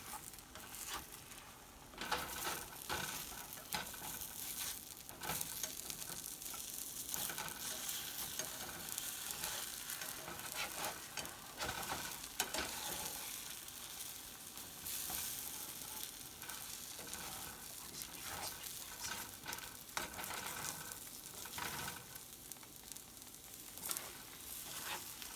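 Scrambled eggs cooking in a pan, a steady soft sizzle with scraping and stirring running throughout, close and continuous, with no talking.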